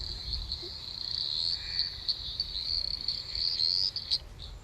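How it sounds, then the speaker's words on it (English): A frog's high, steady trill, played from a recording, drones on without pause, with a few brief chirps over faint low background noise. "But it is this frog that we hear."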